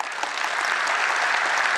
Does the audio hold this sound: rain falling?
no